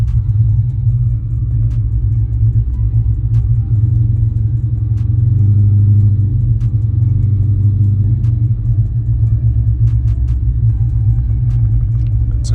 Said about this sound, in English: Let me give it some gas.